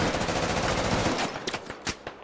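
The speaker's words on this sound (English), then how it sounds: "And now they're receiving some fire from Ronan's element" Rapid automatic gunfire in the shooter game Squad, a dense burst of loud overlapping shots that thins into a few scattered cracks and impacts.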